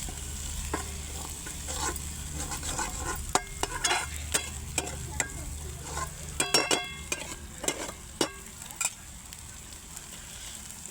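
Ingredients being dry-roasted in a pan on a gas stove, a spoon or spatula scraping and stirring in irregular taps and scrapes over a soft steady sizzle, close and fairly quiet.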